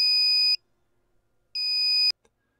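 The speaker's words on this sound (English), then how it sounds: "MedReady's powerful alarm will be activated when it's medication time." A MedReady automated medication dispenser sounds its alarm: two loud, piercing electronic beeps, each about half a second long, separated by a short silence.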